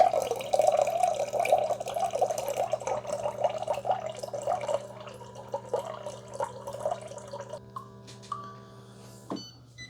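A Ninja Thirsti WC1001 drink maker dispenses water into a cup in 6-ounce increments, a close steady trickling pour that tapers off, ending with a few drips and clicks as the machine stops, with no talk.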